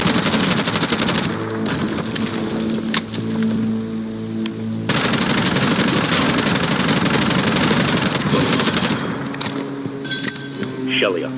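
Assault rifle fire in the shooter game Bright Memory: Infinite, rapid bursts crackling over a dense wash of game effects, tonal music and a speaking voice, loud and continuous with a brief break in the middle.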